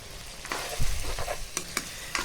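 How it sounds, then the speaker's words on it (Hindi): Chicken jalfrezi being stirred and mixed in a pan as it cooks, irregular scraping and clacking strokes over a low sizzle, close up, with a few sharper knocks near the end and no voices. "इसको अच्छी तरह मिक्स करते जाना है आपने।"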